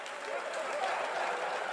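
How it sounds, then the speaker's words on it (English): Audience applause at a stand-up comedy show, a dense, even wash of clapping from a crowd, continuous and moderately loud throughout the brief stretch. "Yeah, still applauding."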